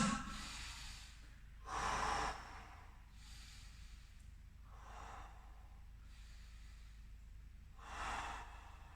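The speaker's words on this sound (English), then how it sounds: "So deep inhale through the nose." Slow, deep breaths drawn through the nose during a leg stretching session, three distinct soft inhalations spaced a few seconds apart over quiet room background.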